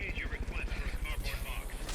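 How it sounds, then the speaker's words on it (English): A helicopter in the video game Metal Gear Solid: Peace Walker thrums with a steady rapid rotor pulse throughout, while someone talks over it. "You're flying your helicopter above this boss."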